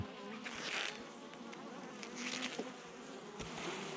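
Honeybees buzz around an open hive, a faint, wavering hum with individual bees droning past close by, rising and falling in loudness.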